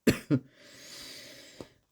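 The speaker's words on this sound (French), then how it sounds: "je m'en excuse de tousser" A woman's dry coughing fit: two sharp, close coughs in quick succession, a short raspy breath, then a softer final cough, with no talking over it.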